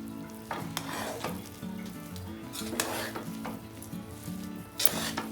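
Close clinks and scrapes of a spoon stirring tomato bath in a frying pan over a soft sizzle, in a run of irregular strokes with no voices.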